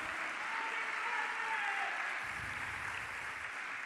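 Church congregation applauding during a worship service, a faint, steady wash of clapping heard from a distance, with a voice faintly present underneath.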